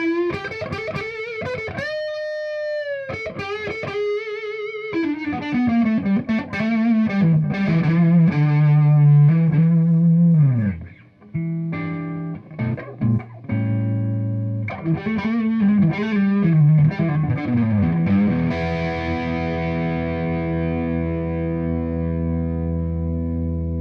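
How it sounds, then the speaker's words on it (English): Overdriven electric guitar from a Wizard Modern Classic amp, on the neck pickup with the guitar volume rolled off, giving a warm, rounded tone, playing sustained chords and melodic runs, loud and close, with a long ringing chord at the end. "get some nice warm overdriven tones just with the volume rolled off"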